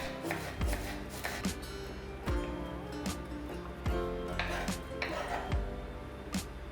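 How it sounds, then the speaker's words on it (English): Carrot juliennes cut with a julienne cutter and cabbage being shredded, producing a series of close, sharp chopping thuds at an uneven pace that sit over a continuous background of music. "So I'll cut carrot juliennes with the help of a julienne cutter and also shred some cabbage"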